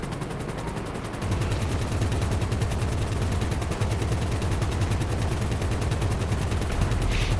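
Sustained machine-gun fire in Grand Theft Auto V, a continuous rapid rattle of shots held steady and loud for several seconds, close and unbroken, with no talking.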